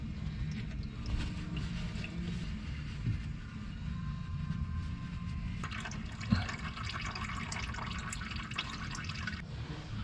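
Engine oil from a 2003 Honda Pilot drains steadily into a catch bucket beneath the motor, a continuous liquid pouring and dripping sound that runs unbroken throughout.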